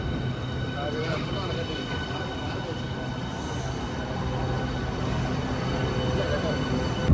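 A Southeastern train heading toward St Pancras rumbles steadily from inside the carriage, with a broad, constant roar and faint tonal whine that builds slightly toward the end.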